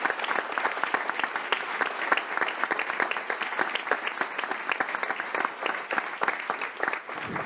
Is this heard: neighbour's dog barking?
no